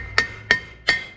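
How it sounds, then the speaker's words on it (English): A hammer taps the rear drum brake of a 1972 Chevrolet C-10 three times at a steady pace. Each blow lands close and sharp with a short metallic ring. "if they're a little stubborn, you can always take a hammer"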